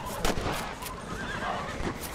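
Horses whinny and neigh amid a busy outdoor scene in Red Dead Redemption, with faint hoof clatter and a steady background bed throughout.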